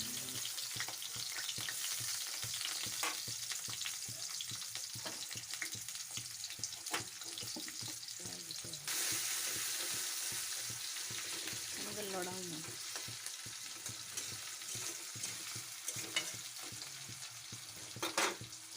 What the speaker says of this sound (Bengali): কড়াইয়ে তেল দিয়ে তেলটা কিছুক্ষণ গরম হওয়ার পর তাতে কুচি করে রাখা পেঁয়াজগুলো দিয়ে দিতে হবে।